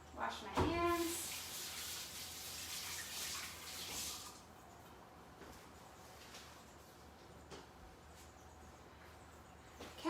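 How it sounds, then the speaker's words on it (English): A kitchen sink tap running as hands are washed, a soft steady stream of water for a few seconds with a brief clatter at the start, fading to quiet room noise. "Wash my hands."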